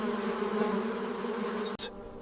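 Honey bees buzz inside a hive among honeycomb walls, a dense, steady drone of many wings close by that continues alone for about two seconds with a brief sharp click near the end.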